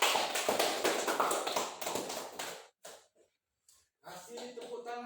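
A classroom of students applauds a presenting group, a dense burst of many hands clapping for a couple of seconds that thins out, followed by a pause and then voices talking.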